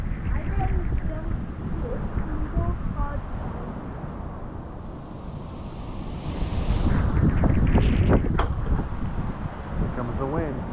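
Strong gusting wind during a severe thunderstorm at an outdoor swimming spot, roaring loudly and buffeting the microphone, with a swell in the middle, while people talk over it.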